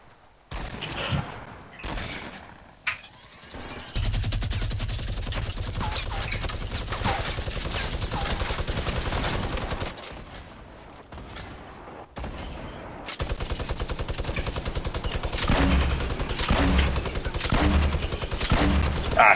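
Video game gunfire crackles in long rapid bursts, loud and sustained, broken by short pauses, with scattered single shots in between.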